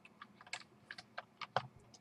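Quick, uneven keystrokes on a computer keyboard with no numlock, clattering close by in short bursts and single taps while a strategy game is played.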